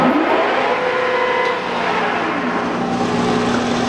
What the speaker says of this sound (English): He's running the machine from the RPM speed changer